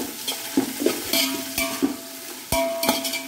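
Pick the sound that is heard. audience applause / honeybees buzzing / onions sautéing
onions sautéing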